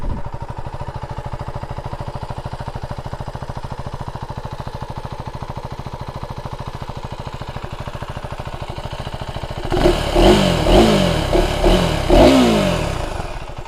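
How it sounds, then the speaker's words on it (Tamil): A KTM Adventure 390X single-cylinder motorcycle idles with a steady, close thumping, then near the end it is revved in several loud throttle blips that rise and fall. "ஸோ வண்டியை வந்து நான் ஸ்டார்ட் பண்ணி காட்டுறேன்."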